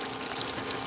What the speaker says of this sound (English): You can see they're frying.